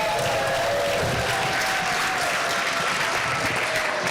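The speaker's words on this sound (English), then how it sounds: "Another round of applause for the singing resistance." Sustained audience applause at a gala celebration, a dense even wash of many hands clapping with no break and only faint crowd sounds beneath.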